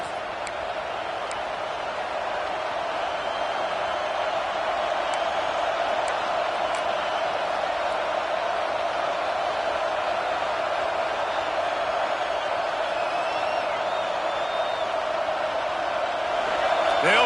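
Stadium crowd in a college football video game, a steady broad roar of many voices holding level throughout and swelling slightly at the end.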